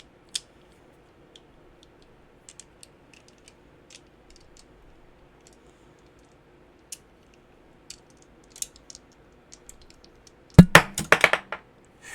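A single die drops onto a hard surface and clatters in a quick burst of bouncing clicks near the end, after a long stretch of near silence with scattered faint taps.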